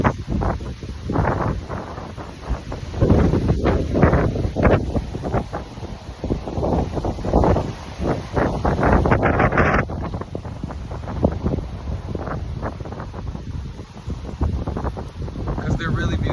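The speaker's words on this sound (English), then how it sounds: "I love these really windy days." Strong wind buffets the microphone in heavy, gusting bursts, roaring continuously with a voice faintly present beneath it.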